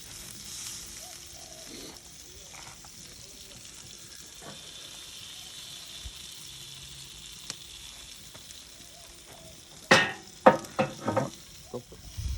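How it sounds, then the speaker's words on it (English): Oil flaring and sizzling on a wood-fire iron grill over red gum, with butterflied Australian lamb leg and potatoes; a low steady sizzle builds into several loud bursts of crackling flare-ups near the end. "We'll even just add a bit of oil to our lovely potatoes. Stand back, Olivia. This is going to get flamey because of the oil."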